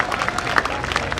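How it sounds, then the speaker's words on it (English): A brief burst of applause from an audience honouring those behind a decal and sign company's work at a motorsport wall of fame event, dense and steady throughout. "How about a big round of applause for everybody involved with this?"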